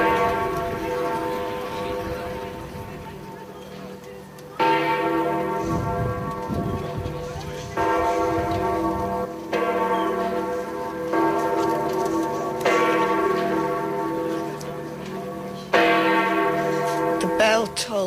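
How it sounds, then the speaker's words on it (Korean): Large church bells toll at St. Peter's in the Vatican for a papal funeral, with slow, heavy strikes every few seconds whose rich, ringing overtones overlap and linger, with no voices. "The bell tolls"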